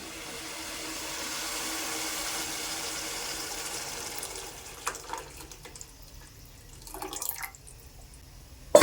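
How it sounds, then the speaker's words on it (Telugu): Tamarind juice is poured into a pot of fish curry in a village kitchen, giving a steady liquid pour and splash for several seconds that thins into a few scattered drips and small splashes, with no talking. "నేను చింతపండు పులుసు అయితే పోస్తాను ఇప్పుడు"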